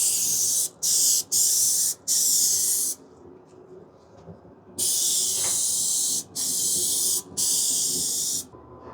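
An aerosol spray paint can spraying RV wall framing, loud bright hissing bursts of about a second each, several in a row, separated by short gaps and a longer quiet pause.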